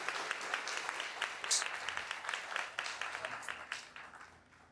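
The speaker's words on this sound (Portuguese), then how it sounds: "Uma salva de palmas." A congregation at a Catholic church family gathering applauds, a dense wash of many hands clapping at moderate level that slowly fades out toward the end.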